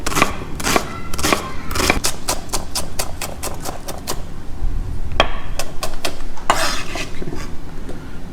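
A knife chops a tomato into small dice on a cutting board: rapid, close, sharp knocks in quick bursts, pausing briefly midway before another run of chops.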